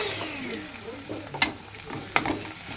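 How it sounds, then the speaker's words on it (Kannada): Tempering spices crackling in hot oil for cabbage palya, a continuous sizzle with two sharp pops and faint stirring clinks, close by. "ಒಗ್ಗರಣೆ ಕೊಡ್ತೀನಿ ರೀ ಅದನ್ನು"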